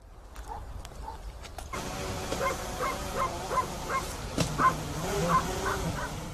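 Street puppies nesting in an old armchair bark and whimper in a series of short, high yips close by. The calls come repeatedly over a low background hum.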